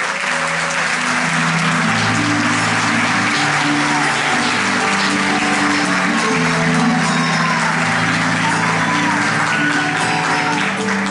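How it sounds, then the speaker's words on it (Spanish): Sustained audience applause for performers at the launch of a new CD. Continuous, even clapping runs throughout, with faint musical tones sounding underneath. "Un fuerte aplauso para todos y cada uno de ellos."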